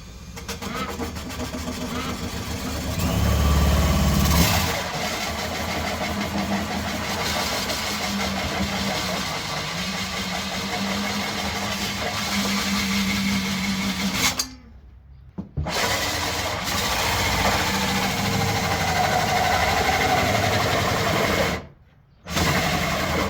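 A Ryobi cordless drill slowly turns a hole saw backwards into plastic for a duck waterer, a steady motor whine with grinding that dips and surges, cutting out twice, while a person talks.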